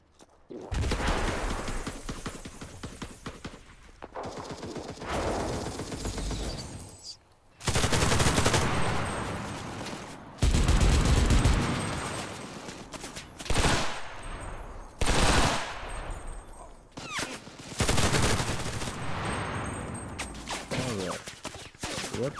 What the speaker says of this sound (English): I'm being shot from two different squads again